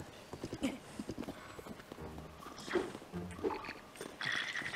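Horse hooves clip-clopping in Tears of the Kingdom, a light, uneven trot of hoofbeats heard under speech, with game sounds in the background.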